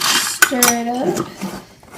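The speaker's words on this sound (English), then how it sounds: "Stir it up." A spoon stirs dairy-free French vanilla creamer into a glass of iced coffee, producing a few bright metallic clinks and a short ringing tone close by, with no talking.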